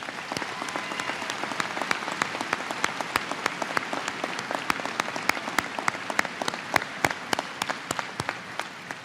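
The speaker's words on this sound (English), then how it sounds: "let's give them a big round of applause" Sustained applause from a commencement audience at Lake Area Technical Institute's 2017 graduation, honouring graduates' families; dense, even clapping with a few sharper individual claps standing out, steady throughout.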